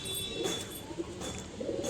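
Pigeons at a loft give soft, low coos, faint and somewhat distant over a steady background hiss, with a few short calls repeating across the moment.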